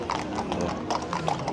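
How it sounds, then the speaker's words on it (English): A horse's hooves clip-clop steadily as it pulls an illuminated carriage giving a nighttime tour along the seafront in Blackpool, with a few crowd voices in the street around it. "The horse and carriages all lit up, taking those people for a bit of a tour around Blackpool."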